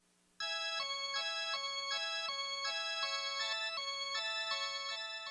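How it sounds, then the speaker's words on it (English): Bright organ rocking chords move back and forth in an even, steady rhythm, sustained tones alternating continuously after a brief quiet start. "the organ that's playing rocking chords that sound like this"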